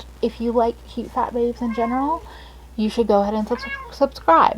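A domestic cat meows several times in the background, its drawn-out calls mixed in with a person talking steadily in the foreground.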